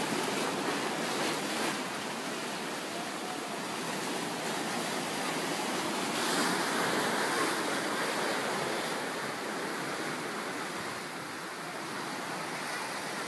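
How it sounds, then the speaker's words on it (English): Ocean surf breaks steadily on Boston Beach in Portland, Jamaica, where people are out surfing; a continuous broadband wash of waves with gentle swells in loudness, no voices. "there's some people out there surfing right now, catching some really good waves"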